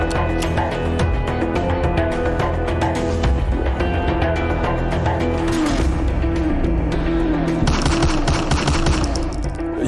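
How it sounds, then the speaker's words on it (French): Dramatized gunfire exchange with rapid, dense bursts of shots in a loud continuous barrage, layered over a heavy rumbling backdrop throughout. "Il y a des coups de feu qui sont échangés."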